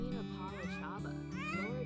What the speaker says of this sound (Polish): gdzie kot wyje?